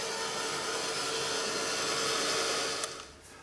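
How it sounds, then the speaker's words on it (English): A heat gun blows a steady, loud whooshing roar while drying clear gesso on a mixed media art journal page, cutting off near the end. "grab my heat gun, and I'm just going to quickly dry off that clear gesso"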